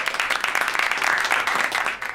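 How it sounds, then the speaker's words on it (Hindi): Loud studio audience applause for the contestants on a television game show, a continuous dense wash of clapping that holds steady from start to finish. "जोरदार तालियां हो जाए सभी कंटेस्टेंट्स के लिए"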